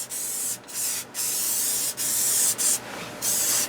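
Spray adhesive is misted onto the mating surfaces of a bed in a 1984 Airstream motorhome. Five or six loud, close hissing bursts are separated by short pauses.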